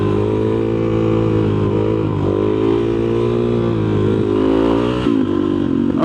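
A motorcycle engine drones loud and close in a sustained pull, pitch wavering as the throttle is held and eased during a slow wheelie, with small dips around the middle and end.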